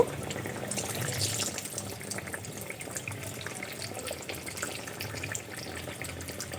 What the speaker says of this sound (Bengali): এইভাবে মুচমুচে করে আমি চপগুলো ভেজে নেব